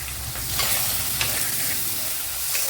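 Shallots sizzling steadily as they fry in a pan, with scraping stir strokes recurring throughout, close and continuous with no talking.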